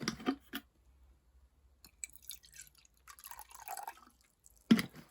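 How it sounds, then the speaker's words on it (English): Water trickles and drips into a small water dish in a tarantula enclosure, with brief splashes at the start and end and quiet gaps between. "let's just quickly just fill that water dish up"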